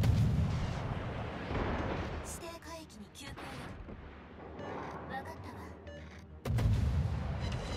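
Warship main guns firing shells in World of Warships, the German cruiser Mainz engaging a battleship, giving heavy booming salvos and rumbling blasts that swell and fade across the clip, with someone talking over them.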